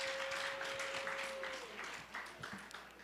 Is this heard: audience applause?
yes